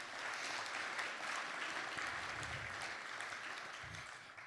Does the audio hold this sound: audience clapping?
yes